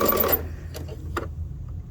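A sewing machine stitching pieced fabric with a seam guide, heard as a burst of fast mechanical stitching at the start, then a few soft clicks and taps over a quiet room.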